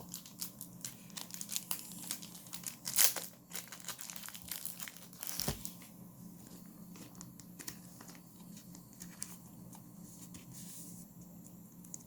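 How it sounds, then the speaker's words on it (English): A costly holographic trading card from a Genesis booster box being slid into a thin plastic sleeve, giving soft crinkling and rustling plastic sounds with one sharper crinkle early on, close and quiet throughout. "As this is a costly card, I gotta sleeve it to make sure it doesn't lose value."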